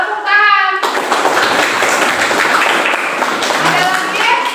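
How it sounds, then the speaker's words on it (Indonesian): Students in a junior high school classroom clap their hands together in a loud, dense burst that carries on steadily for several seconds, with children's voices chattering underneath. "Ya, tepuk tangan."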